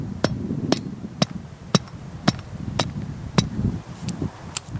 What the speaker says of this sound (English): I just hammer that down.